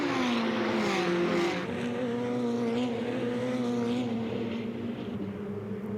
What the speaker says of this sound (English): So the cars all come down the hill then and into that left-hander